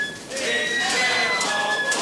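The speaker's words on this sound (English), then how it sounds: "I can hear wood pigeons" Wood pigeons coo softly on a hot, still summer day, low hooting calls drifting in with a faint high whine under them and no talking.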